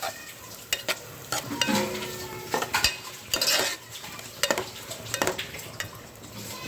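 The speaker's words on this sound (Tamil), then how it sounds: "தக்காளி சேர்த்திக்கலாம். நல்லா மிக்ஸ் பண்ணி விட்டுக்கலாம்." Tomatoes are stirred into onions sizzling in a pan for a Tamil fish curry. A utensil scrapes and clatters against the pan in irregular strokes over a steady close hiss of frying.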